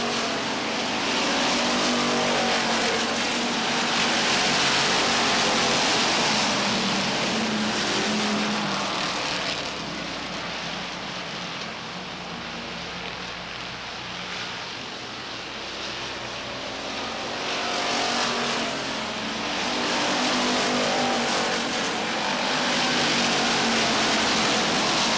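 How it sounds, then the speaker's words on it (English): Stock cars race at Beech Ridge Motor Speedway in 1992, several engines roaring together in a loud continuous drone that swells and eases as the pack runs three wide down the backstretch. "Cars going 3 wide on the backstretch."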